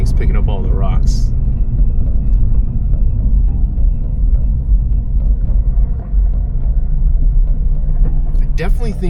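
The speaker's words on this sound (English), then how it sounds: "I'm pretty sure I can hear every tooth of every gear on this this transmission" A track-prepared Subaru BRZ driving, heavy low road and drivetrain rumble inside the cabin with a faint whining gear noise, while a voice speaks briefly at the start and end.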